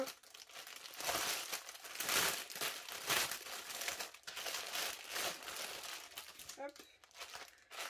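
Close, crackly crinkling and rustling of plastic wrapping as a cross-stitch kit package is pulled open, in uneven bursts with a voice talking alongside.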